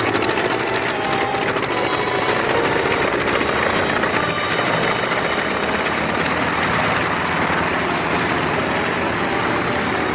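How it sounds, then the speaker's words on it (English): An airplane taking off in an old film serial, a steady loud engine roar that holds for about ten seconds with no voices over it. "plane just took off."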